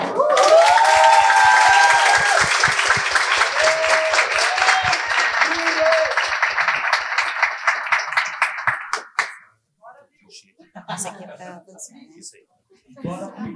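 A conference audience applauds to welcome a speaker from PagSeguro PagBank on stage, loud dense clapping filling the first nine seconds before fading out, followed by a few scattered voices and quiet room noise.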